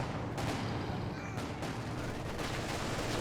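Machine gun bursts and scattered gunfire from a Company of Heroes 2 tournament match come in quick clusters amid a dense battle din, fairly faint and continuous, with commentary voices underneath.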